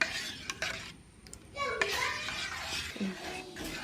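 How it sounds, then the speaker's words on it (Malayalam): Cake batter of sugar and oil is stirred in a bowl, a soft continuous scraping and swishing close by at a low level, with faint background voices. "പഞ്ചസാര ലൈനി ഒഴിച്ച് നന്നായി ഒന്ന് ഇളക്കണം."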